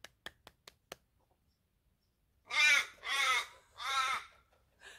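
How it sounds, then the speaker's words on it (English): Crow in a backcountry hiking setting, giving three loud, harsh caws in steady succession after a few sharp clapping taps, nearby and clear. "now there's this crow right here"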